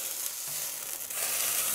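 Skewered pieces of low-carb meat sizzle and fry steadily in a hot pan, a continuous close crackling hiss with no talk over it.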